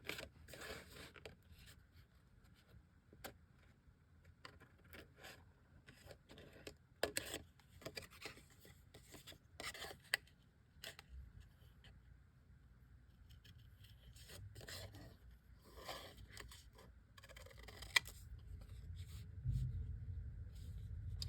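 Scissors snip and scrape around the edge of a die-cut Christmas card, a long stretch of soft, irregular cutting and paper rubbing close up at low volume.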